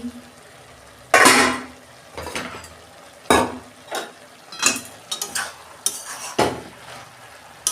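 Cabbage being stirred in a pan: uneven bursts of scraping and clattering from a utensil against the metal, loud and close, with a faint sizzle between the strokes.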